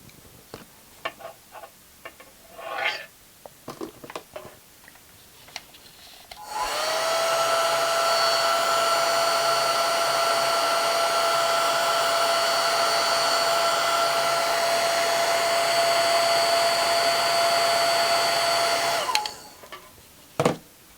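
A hair dryer blows steadily for about twelve seconds, drying a swatch of red paint, with a loud, even whine starting abruptly and cutting off sharply; faint handling noises come before it.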